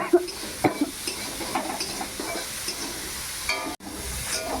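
Salt and turmeric fry in a pan with a soft continuous sizzle, punctuated by several clinks and scrapes of a metal spoon on the pan and one brief knock near the end.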